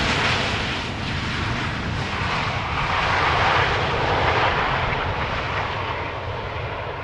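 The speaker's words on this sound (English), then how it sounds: "This is a KLM style landing, keeping up the speed" A KLM airliner landing at Schiphol Airport, a loud sustained jet engine roar that holds steady throughout without pause.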